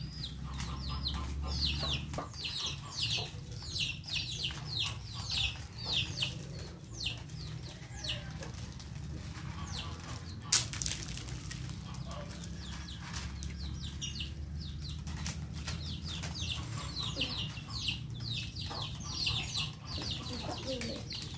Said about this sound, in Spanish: Aquí nos encontramos también con los pollitos y los patos que ya cargan hambre.